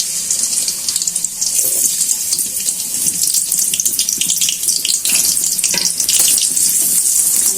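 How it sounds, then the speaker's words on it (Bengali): Chopped onions hit hot oil in a wok at the start of a white pumpkin fry, giving a loud, steady, close-up sizzle with crackling bursts and no talking. "তেলটা গরম হয়ে গেছে, পেঁয়াজ কুচি গুলো দিয়ে দিচ্ছি।"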